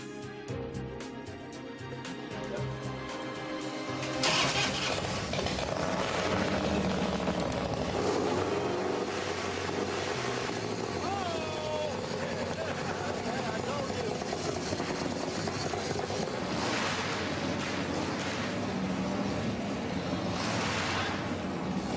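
A custom motorcycle engine fires up and revs hard, a loud, deep, steady growl that fills the clip, with voices faintly beneath.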